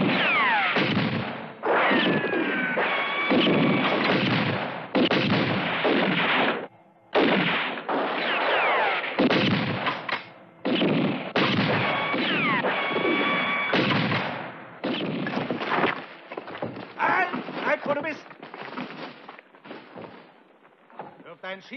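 Gunshots ring out in a German-dubbed western film, repeated loud blasts and booming reports crowding together over several seconds, with voices and score mixed in.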